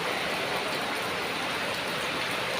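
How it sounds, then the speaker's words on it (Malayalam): Heavy rain pours in a steady, dense hiss with no pauses or voices, close and continuous for the whole stretch. "അവിടെ പെരും മഴ."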